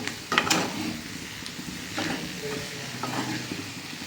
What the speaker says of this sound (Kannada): ಒಂದು ಸತಿ ಚೆನ್ನಾಗಿ ಕ್ಲೀನಾಗಿ ಮಿಕ್ಸ್ ಕೊಡ್ತಾ ಇದ್ದೀನಿ